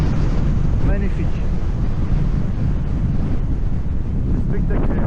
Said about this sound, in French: Il y a du vent, je sais pas si tu vas bien entendre.